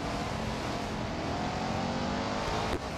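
Engine of the Porsche Mission R race car in the racing game Real Racing 3, a loud, steady, close engine drone held for about three seconds with no talk.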